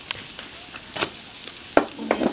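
An omelette sizzles as it fries in a pan, with a soft, steady hiss broken by scattered sharp crackles and pops.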